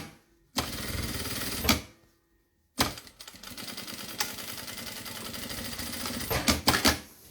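A sewing machine stitches a double pencil case, running in two loud bursts separated by a pause, with a short backstitch at the start of the seam.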